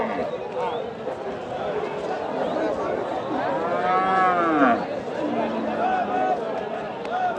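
Desi breed cattle at a market give a long, rising moo close by, over a busy crowd murmur and people talking.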